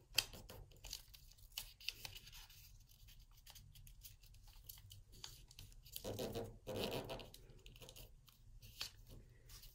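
Paper being folded for an origami butterfly makes soft, close crinkles and creasing scrapes in quiet bursts, with a louder rustling stretch toward the end.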